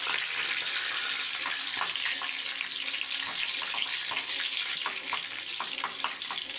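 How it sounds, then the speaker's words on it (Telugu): Raisins frying in ghee in a small pan over a low flame, a steady dense sizzle with scattered small pops and crackles throughout, close and continuous with no talking. "ఎండు ద్రాక్షను వేస్తున్నానండి."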